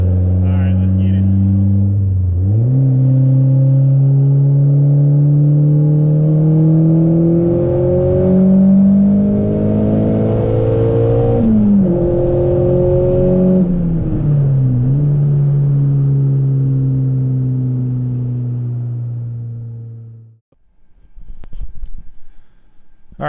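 A Honda car engine tuned with a Hondata S300 revs hard during a data log pull, loud and close, its pitch climbing and dipping in steady sweeps for about twenty seconds before cutting out, followed by brief faint rustling.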